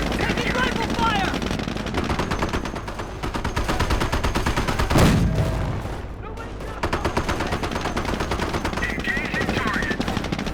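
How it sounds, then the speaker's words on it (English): Battle in the World War II strategy game Company of Heroes: continuous rifle and machine-gun fire rattles throughout, with a heavier boom around the middle, dense and loud. "Axis infantry spotted. Taking rifle fire!"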